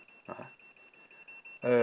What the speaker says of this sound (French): un bip sonore qui vous indique, attention, il y a du courant